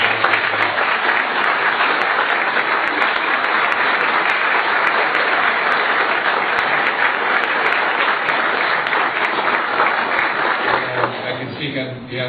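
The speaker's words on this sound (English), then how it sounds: "Let's give her a round of applause for" A council meeting audience bursts into sustained, loud applause that holds steady for several seconds before tapering off near the end.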